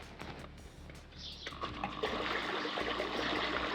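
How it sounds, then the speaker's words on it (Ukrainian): A frame pool's filter pump is switched on, and a rushing, gurgling flow of circulating water swells in after about a second and then holds steady over a low hum. "тепер можна включити фільтр"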